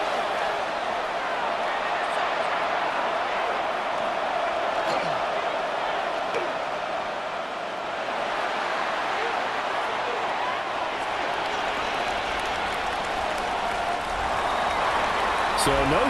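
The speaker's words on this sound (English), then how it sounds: "this crowd is making an impact right now." Simulated stadium crowd noise from a Madden NFL 26 Cowboys vs. Eagles game, a dense, steady roar filling the whole stretch with a slight swell near the end, running continuously behind play-by-play commentary.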